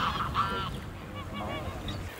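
Greylag geese honk in a natural wetland with ponds and marshes, several nasal calls rising at moderate distance over a steady outdoor background.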